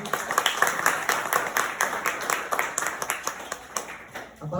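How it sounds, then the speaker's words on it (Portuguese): Clapping rises for a church leader being introduced at a gospel service: a moderate, steady patter of many hands with a rhythmic pulse, fairly close. "Salva de palmas para eles aqui"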